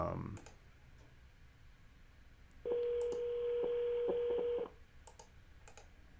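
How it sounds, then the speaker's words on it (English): A phone line tone sounds for about two seconds as a call is placed, a steady electronic pitch with faint clicks, set against quiet room noise. "See if Jason answers the phone."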